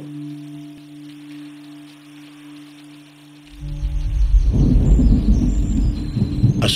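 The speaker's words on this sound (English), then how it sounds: "A storm rumbles in the distance." Distant thunder from a storm in a video game, a low rumble swelling up after a few seconds of quiet hum and then rolling on steadily and loudly to the end.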